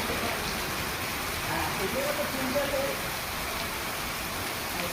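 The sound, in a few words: rain falling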